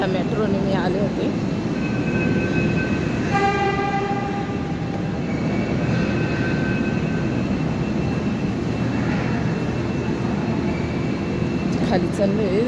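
A Pune Metro train running at speed, heard from inside as a loud, steady rumble and rushing noise, with brief tonal whines and beeps early on and people talking underneath.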